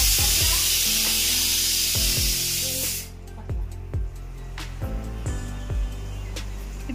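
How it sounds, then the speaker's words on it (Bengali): Bitter gourd, potato, pointed gourd and onion frying together in a pan: a loud, dense spraying hiss for about three seconds, then a quieter sizzle with scattered clicks and pops, close by, with no talking. "এই যে উচ্ছে দিয়ে আলু দিয়ে পটল দিয়ে পেঁয়াজ দিয়ে ভাজা"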